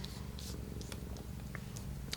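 Close, continuous cat purring hums low and even, with a few faint higher clicks and rustles over the top, and no voices.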